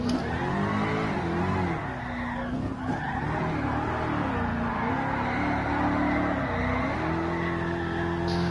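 Car engine in Gran Turismo Sport on the Tsukuba circuit, revving hard and rising and falling as the car drifts, with a steady tire-skid hiss beneath, loud and continuous throughout.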